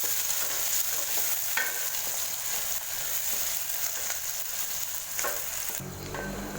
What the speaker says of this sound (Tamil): அதை சேர்த்துட்டு வெங்காயத்தை லேசாக வதக்கிட்டுக்கலாம்.